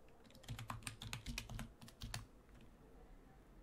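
Typing on a Logitech computer keyboard, a quick run of crisp key clicks for about two seconds, then the keys fall silent and only faint room tone remains.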